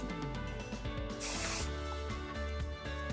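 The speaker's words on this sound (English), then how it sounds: "Put some hairspray just to bring these down a little." A single short burst of hairspray sprayed onto styled hair, a soft hiss lasting about half a second amid quiet handling and rubbing noises.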